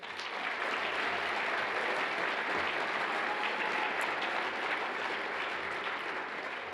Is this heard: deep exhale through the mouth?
no